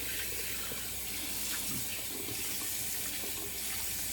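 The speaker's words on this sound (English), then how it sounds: "cold water rinse." Cold water runs steadily from a bathroom tap for a rinse after a wet shave, a continuous close splashing hiss with no voices.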